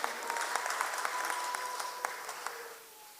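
Many hands clap together at a Kikuyu church service, producing a full, continuous burst of applause that holds steady and then fades out in the final half-second.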